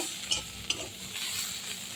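Bottle gourd leaves fried in a little oil with garlic and dried chilli, a soft continuous sizzle with two sharp spatula clicks against the pan.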